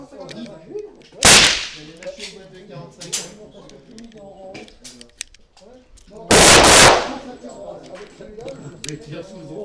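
Two loud, sharp gunshots ring out at a gun shop's shooting event, a few seconds apart and close by, each with a brief echoing tail, while people chat between them.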